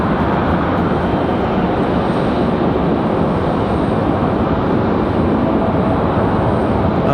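Delta flight 1097 to Atlanta departs from Raleigh-Durham International at night, a steady, loud broadband engine roar holding constant throughout with no talk over it.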